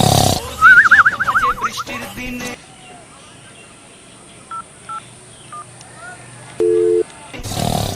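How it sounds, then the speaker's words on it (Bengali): A phone being dialed: several short keypad tone beeps spaced apart, then a longer steady tone, clear and close after a brief burst of noisy warbling at the start. "তার আগে এবার ভোটাকে ফোন করি।"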